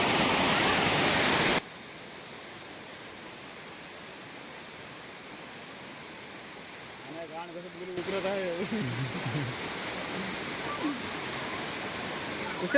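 A village waterfall of rushing water reached along a muddy track: a loud burst of rushing noise at first, then a softer steady rush continuing underneath while people talk nearby.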